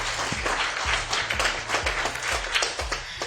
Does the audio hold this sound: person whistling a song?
no